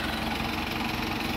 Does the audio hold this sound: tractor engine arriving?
yes